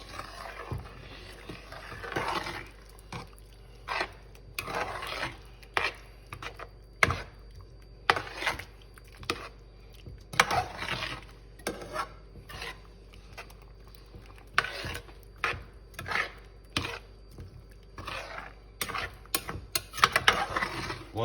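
Crawfish étouffée being stirred in a pot: irregular clacking and scraping taps of a utensil against the pot, faint and spaced out, repeated many times over a quiet background.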